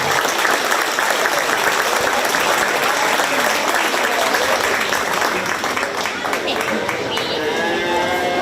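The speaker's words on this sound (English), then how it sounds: "Let's give the kids a round of applause." A crowd at a county fair 4-H bottle calf show claps loudly and steadily for the young exhibitors, a dense sustained applause with some voices mixed in.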